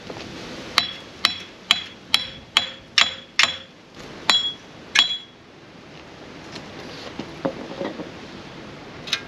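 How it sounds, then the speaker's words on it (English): About nine sharp metallic hammer strikes ring out in a quick, fairly even rhythm on a thin metal axle dust shield of a Jeep TJ Wrangler front axle, followed by quieter clinks and handling noise. "a couple whacks of the hammer"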